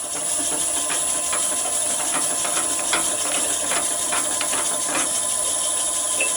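Lathe drilling into a Corian blank, a constant motor whine and hissing cut with faint scraping of swarf, steady and fairly loud throughout.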